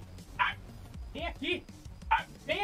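A dog barks in short, sharp bursts, about four or five yelps in two quick pairs with gaps between, moderately close and mixed with some background noise.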